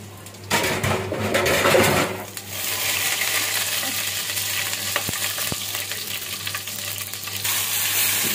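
Onion and spices frying in hot oil for mashkalai dal in a home kitchen, a continuous close sizzle with stirring scrapes and a couple of sharp utensil clinks.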